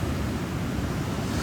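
Heavy surf breaks on a treacherous stretch of ocean as a steady, loud roar of crashing waves with wind noise and no voices.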